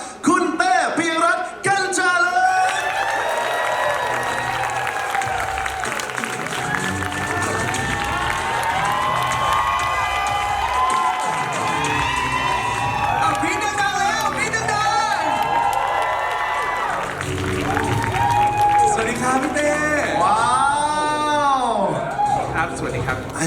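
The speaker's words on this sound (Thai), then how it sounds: "ขอเสียงปรบมือต้อนรับ" A studio audience at a taping of The Face Thailand Season 6 cheers, shouts and applauds to welcome someone on stage, a loud, continuous crowd roar with excited voices throughout.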